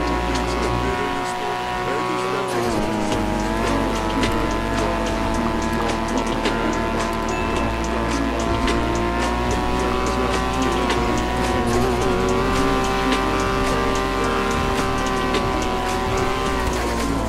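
A Nissan Skyline R34 in a racing video game runs flat out at top speed, its engine holding a loud, steady high-revving drone throughout, with a voice faintly under it.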